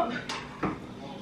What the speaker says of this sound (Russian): Теперь мы берем тарелки, и вот уж теперь мы накладываем.